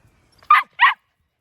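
Two quick, high-pitched yaps from a puppy, close by and sharp, with silence around them.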